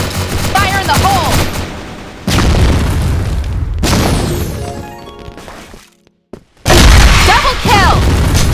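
Grenade blast from the CrossFire Vietnam shooter, heavy booming bursts mixed with game gunfire, with loud explosive impacts near the start, middle and end, a brief silent gap just before the last blast, and in-game voice announcements over the action.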